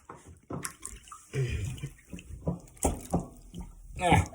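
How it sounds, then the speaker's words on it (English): Bathwater gurgles and rushes as it drains from a tub after brass instrument parts were soaked and cleaned, coming in uneven splashy bursts close by, with brief speech mixed in. "And you can let the water out."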